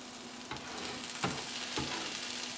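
Breakfast food for a country breakfast frying in a pan, a steady close sizzle with a few scraping stirs breaking through, no talking.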